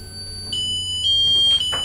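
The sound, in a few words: radiation detector alarm at high thorium levels in mine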